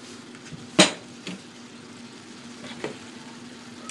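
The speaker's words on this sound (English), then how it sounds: "I'm going to nicely stir that in together." A spoon stirs brown sugar BBQ chicken sauce in a pan over a medium burner, with one sharp metallic clank against the pan followed by a few softer scrapes and taps over a low, quiet background.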